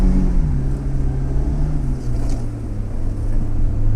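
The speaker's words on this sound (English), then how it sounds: "I love driving my Pajero Mini off-road." A Mitsubishi Pajero Mini drives off-road across sand dunes, its small engine giving a loud, steady drone that shifts pitch slightly as it labors through the sand.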